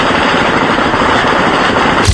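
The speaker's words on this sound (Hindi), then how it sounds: "पहाड़ों पर उठता सफेद धुआं और गोलियों की ये गूंज" Gunfire on the Line of Control in the mountains, a loud dense burst of rapid automatic shots that blur into a continuous crackling roar, ending with one sharp low thump.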